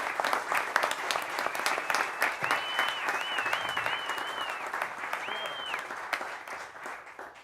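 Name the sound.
audience applause for drum instructor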